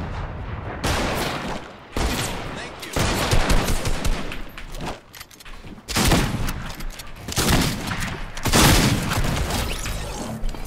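In the Fortnite video game, a new shotgun fires in loud, close bursts of gunfire, several booming blasts separated by short gaps, mixed with other gunfire and game sounds.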